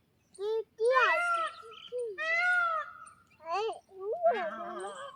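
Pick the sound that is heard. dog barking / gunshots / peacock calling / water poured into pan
peacock calling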